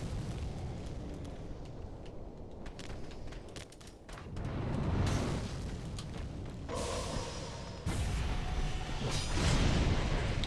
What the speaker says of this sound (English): that one warden is getting the flamethrower out